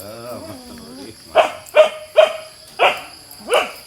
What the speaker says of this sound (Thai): หมาน้อยเห่าอะไร